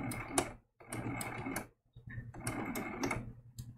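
Sewing machine stitching down an appliqué circle for a baby giraffe quilt design, running in quick close-up bursts of rapid needle clatter separated by brief pauses.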